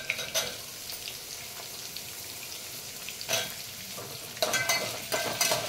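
Potatoes are stirred into fried onions in a pan, giving a steady sizzle with scraping stirs and a few louder clatters up close, without speech.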